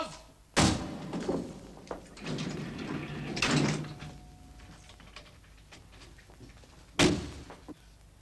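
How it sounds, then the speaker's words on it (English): Doors slam with heavy thuds indoors, three distinct bangs spread apart amid room noise, shuffling and muffled movement. "Anyone can slam doors."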